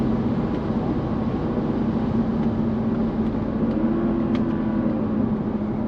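A Mercedes-Benz S55 AMG (W220) pulls hard in manual mode, a steady, droning engine note heard from inside the cabin, continuous and moderately loud with no talking.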